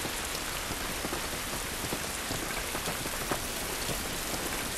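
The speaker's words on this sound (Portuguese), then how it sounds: "Essa chuva não vai nos ajudar." Steady heavy rain in The Last of Us video game, a dense broadband wash of drops pattering on surfaces, loud and continuous throughout with no talk.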